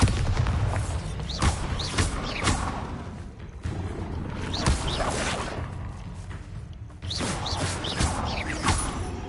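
Repeated booming spell explosions from the Bombarda and Confringo attacks in Hogwarts Legacy, loud bursts with crackling debris recurring every second or two over a constant rumble of game combat.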